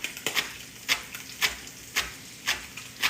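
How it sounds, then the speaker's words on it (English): A knife rocks up and down finely chopping green onions on a cutting board, giving a steady series of crisp, evenly spaced taps, close and clear with no talk. "I'm just rocking my knife up and down, and I'm slowly moving it as I feed my green onions in"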